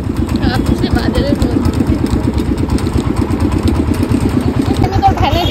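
A motor-driven van engine runs steadily during a ride to a market, a loud, close, rhythmic chugging throb that holds evenly throughout.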